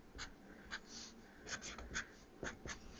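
A Sharpie marker squeaks across a card in short, quick strokes, close and quiet, with soft breathing between the strokes and no talking.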